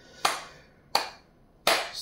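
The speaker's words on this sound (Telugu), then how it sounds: "చప్పట్లు." Three single hand claps, evenly spaced about seven tenths of a second apart, sharp and moderately close in an otherwise quiet room during a piano lesson.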